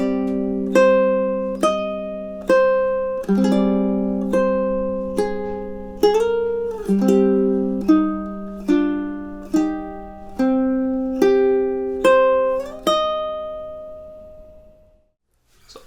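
A ukulele plays the opening two measures of a love theme as a steady solo melody of plucked notes, each ringing briefly, before the last note fades into silence.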